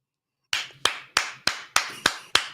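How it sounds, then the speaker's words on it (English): Seven evenly spaced single hand claps, loud and close, from one person clapping for the Miami Heat on a morning talk show, each sharp crack ringing out briefly after a moment of silence. "Let's clap it up for the Heat"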